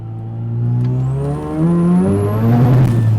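A Mazda RX-7 FD accelerates hard, its engine note rising loud and close through the revs, with a brief dip as the gear changes before climbing again.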